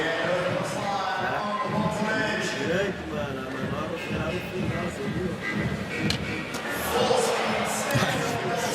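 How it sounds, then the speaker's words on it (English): Noisy crowd at an SLS skateboarding contest in Paris, a steady roar of cheering and chatter with shuffling and scattered taps, loud and continuous, with a commentator talking over it. "Crowd's making a lot of noise"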